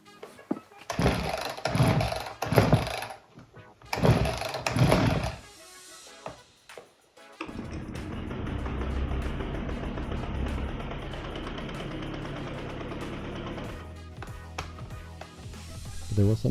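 An old free chainsaw gets two bursts of loud cranking pulls, a brief pause, then its small two-stroke engine catches and runs steadily close by, the idle wavering slightly toward the end.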